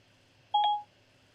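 A single short telephone dial tone beeps once, clear and fairly loud, over a quiet background.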